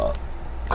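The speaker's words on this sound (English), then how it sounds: "That was a nice burp." A short, loud, low belch in the middle of a game session, with a voice breaking in at the start and end.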